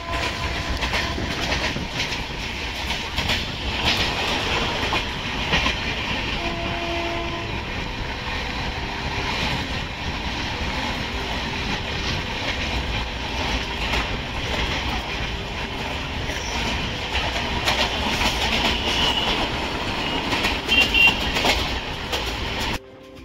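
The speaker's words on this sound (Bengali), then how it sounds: "ট্রেন চলেছে 70 থেকে 72 এবং 73 কিলোমিটারের মধ্যগতিতে।" Darjeeling Mail train running at about 70 km/h, heard from on board as a loud continuous rumble with rhythmic wheel clatter on the rails, steady for the whole stretch with no talking.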